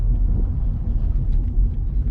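A Volkswagen Golf Cabriolet mk4 2.0 being driven, with a steady low engine rumble and road roar throughout and no talking.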